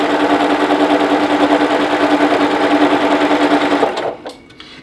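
A sewing machine stitches a quarter-inch seam in a loud, steady rapid whir for nearly four seconds, then stops abruptly, leaving only faint handling noises.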